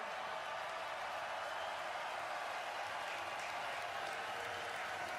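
A large crowd at the 2026 NFL Draft applauds and cheers for Easton in a steady, dense roar that fills the whole stretch without letting up.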